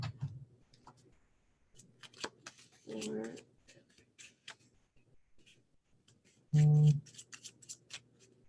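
Tarot cards are shuffled and flipped in crisp bursts of riffling and sharp clicks. A person talks briefly between the card sounds.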